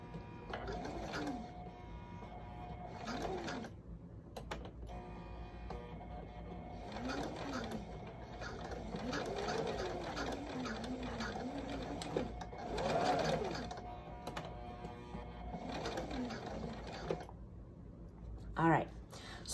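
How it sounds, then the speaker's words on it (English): Sewing machine stitching elastic onto fabric, running in several short bursts with pauses as the stitching goes back and forth, close by, with someone talking between and over the runs. "I'm going to make a few stitches and kind of go back and forth a few times"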